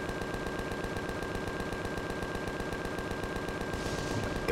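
Turret fire in the space game Empyrion rattles in a rapid, even automatic stream, a continuous burst of regular shots held at moderate loudness throughout with no talk.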